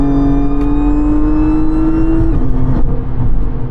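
Supercharged Hyundai Elantra N accelerating hard on a highway: a loud, steady engine drone with a rising supercharger whine, then a brief dip as it shifts and keeps pulling, heard from inside the car.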